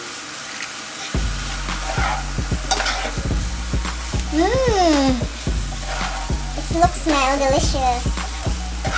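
Pancit bihon with soy sauce and seasoning being stirred in a frying pan, a steady sizzle with scraping spatula strokes throughout, while a voice speaks briefly over it.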